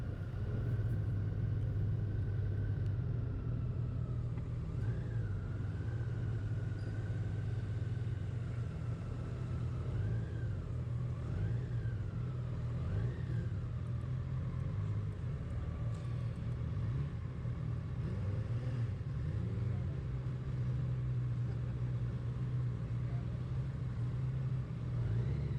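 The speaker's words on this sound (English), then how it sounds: "on the ultimate test ride so far on the 2024 Honda Goldwing DCT Tour" A 2024 Honda Goldwing DCT Tour motorcycle on a street ride gives a continuous low engine rumble under steady road and wind noise, with faint rising and falling engine tones throughout.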